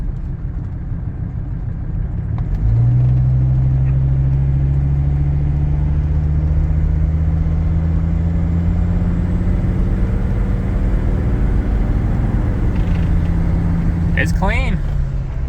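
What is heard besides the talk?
Mercedes car engine while driving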